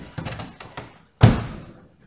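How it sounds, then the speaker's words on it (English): A car door closes with a single solid thud after a few faint taps and shuffles, in a quiet vehicle cabin during a high voltage isolation fault diagnosis. "Close the door"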